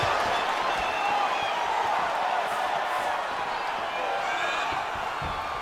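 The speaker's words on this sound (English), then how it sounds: "So the crowd voicing its appreciation after that round." Dense crowd noise from an arena in the fighting video game EA Sports UFC 4 follows the end of a round, a steady roar of cheering and applause throughout.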